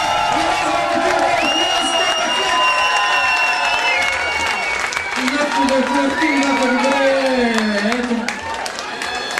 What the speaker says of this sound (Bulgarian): Аплодисменти за господин Зобков.